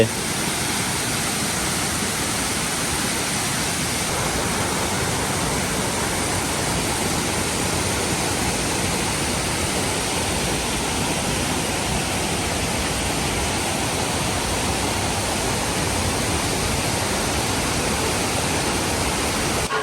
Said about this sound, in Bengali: ঝর্ণার সৌন্দর্যের মৌলিক উপাদানই তো জলের প্রবাহ